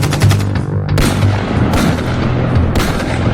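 Loud volleys of gunfire erupt in several bursts, with booming reports and rapid cracks separated by brief pauses.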